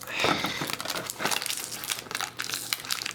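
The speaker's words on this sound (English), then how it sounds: "Let me bring out my scissors." Scissors snip and crinkle through packing tape on a Thomas Wooden Railway toy train box, a close, busy run of crackly cuts and rustling plastic with no talking.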